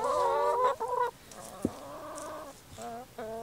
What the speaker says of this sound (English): give these pumpkin scraps to the chickens